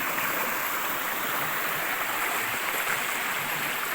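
A mountain stream pours loudly down a hillside near a waterfall in the Phu Phan range, a steady, close, unbroken rush of churning water filling the whole clip with no voices.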